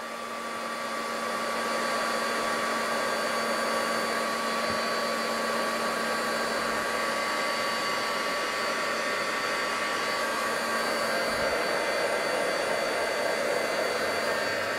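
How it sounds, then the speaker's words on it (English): A heat gun runs continuously with a steady, loud blowing whir and a constant motor tone, melting excess material on a vintage carousel craft project, with no voices over it. "Put your heat gun on."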